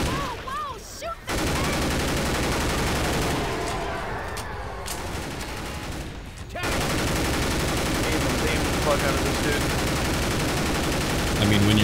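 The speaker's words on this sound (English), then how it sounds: "It's a good thing all the gunshots are so loud" Rapid gunfire from large-magazine guns in a modded Left 4 Dead 2 zombie shooter, a dense, continuous loud barrage that briefly drops out twice before resuming, with players talking over it.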